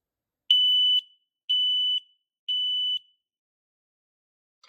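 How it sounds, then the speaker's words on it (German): An X-Sense combination smoke and carbon monoxide detector sounds its alarm test: three loud, shrill, evenly spaced beeps of about half a second each, close by and alone, with a short rustle at the very end. "Testing the smoke sensor."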